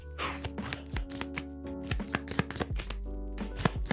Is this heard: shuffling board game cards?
yes